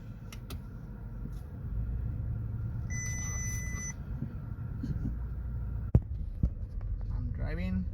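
An Audi A3 being driven, heard from inside the car as a steady low engine and road hum, with a short run of dashboard beeps and a single sharp knock.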